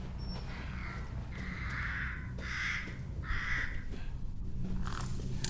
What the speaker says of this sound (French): quand on entend le bruit des corbeaux, on comprend pourquoi les gens les butaient, quoi